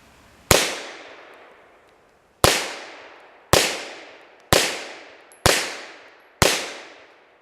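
Six sharp, loud gunshots from a Japanese Type 94 pistol firing 84 grain bullets loaded with HP 38 powder, each crack ringing off in a long decaying echo, spaced roughly a second apart at a 21-foot range.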